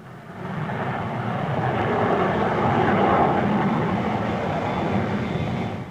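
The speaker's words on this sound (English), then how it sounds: "The Vickers 525 is probably the fastest and most powerful aircraft yet built for operating from a carrier." A Vickers 525 carrier jet flies past at the Farnborough airshow, a broad roaring whoosh that swells to a peak around the middle and then fades slightly, loud and continuous with no one speaking.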